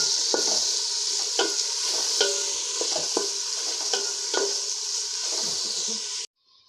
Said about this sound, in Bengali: পেঁয়াজটাকে আমি একটু বাদামি করে ভেজে নেব